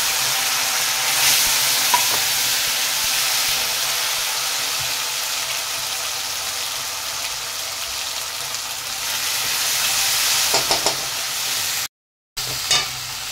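Ground cumin, chilli and ginger spice paste frying in a pan for a Bengali magur fish curry, a continuous bright sizzling hiss with a few faint clinks and a brief dropout near the end.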